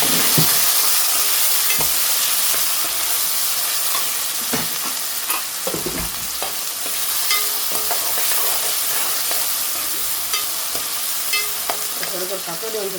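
Garlic, ginger, onion and tomato sautéing in a pan, with a continuous sizzle and repeated scraping strokes of a stirring spoon over about thirteen seconds, close and fairly loud.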